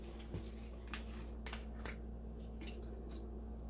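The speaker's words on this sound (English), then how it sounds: "So shake that up real good." A bottle of Mojo marinade is shaken, giving a handful of faint, sharp rattling clicks at irregular intervals over a low steady background hum.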